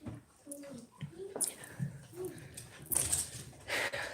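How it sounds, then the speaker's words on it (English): A little dog named Parker gives faint, thin whimpers and whines indoors before being let out, with soft indistinct voices and light household noises nearby. "So I'm gonna let this little dog out."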